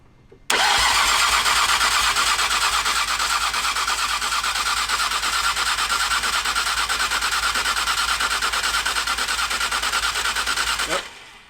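A Nissan R34 GTR engine starting for the first time on a stock fuel pump bursts abruptly into a loud, steady mechanical drone, runs evenly for about ten seconds, then cuts off.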